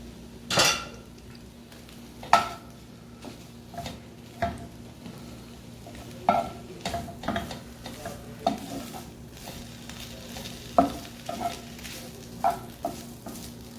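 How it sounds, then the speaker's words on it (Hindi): Chicken pieces frying in oil in a frying pan for homemade shawarma, soft steady sizzle under repeated sharp scrapes and taps of a utensil stirring against the pan, no talk. "अब हम फिर से उसी फ्राई पैन में दोबारा इसको डाल देंगे"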